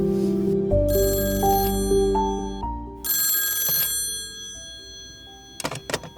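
A telephone bell rings in a few short repeated bursts, loud and close, with no talk over it, just before someone answers a call to an adoption agency in Edinburgh.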